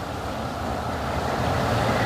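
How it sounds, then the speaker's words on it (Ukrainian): Steady broadband roar of distant road traffic with light wind, heard from an apartment balcony, continuous and moderately loud with no voices. "Їздить транспорт, шумить. Є вітер такий невеличкий"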